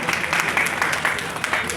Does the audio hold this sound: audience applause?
yes